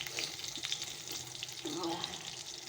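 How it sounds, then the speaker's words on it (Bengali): Eggplant fries in a pan, a steady close sizzle and crackle of oil running throughout with faint kitchen clatter. "এখন একটু বেগুন ভাজি বেগুনটা ভাজা হয়ে গেলে"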